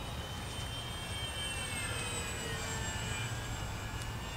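An E-flite F4U-4 Corsair 1.2 m RC model warbird flies overhead with a thin, steady electric motor and propeller whine, faint and distant against a low outdoor background.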